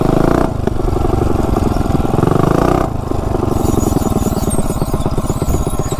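A mini bike with a modified small engine runs close by, a loud chugging putter with rapid firing pulses and a brief rev, then settles back into a steady rumbling idle, with no talking.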